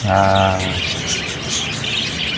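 Pet parakeets chirp in a fast, bright twitter that starts with a clear tonal call and keeps on in busy overlapping tweets, close and fairly loud with no talking.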